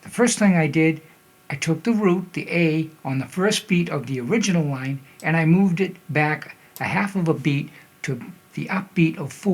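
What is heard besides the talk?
No everyday noises stand out.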